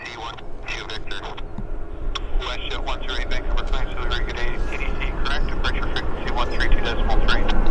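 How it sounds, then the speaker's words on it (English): An Air Canada Airbus A320 arriving from Las Vegas lands at Vancouver airport, its engine roar building steadily and growing louder, while someone talks over the noise. "A320 from Vegas landing here."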